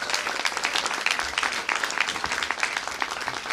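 Steady applause from a crowd at a press conference for Illinois state senators, dense and continuous clapping filling the room for several seconds.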